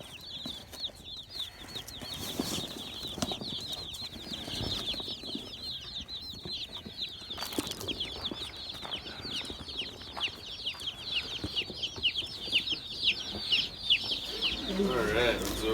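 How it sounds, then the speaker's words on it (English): Meat bird chicks in a transport box during a drive home keep up a dense, continuous chorus of high peeping, heard close over steady low road rumble that grows slightly louder toward the end. "Almost home, and these chicks are making a lot of noise"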